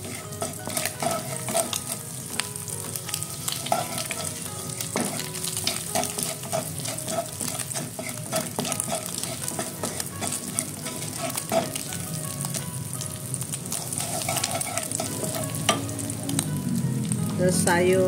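Garlic sizzles in a pan alongside soft scrambled egg, a dense steady frying hiss with frequent spatula scrapes and light metal taps, close and continuous throughout.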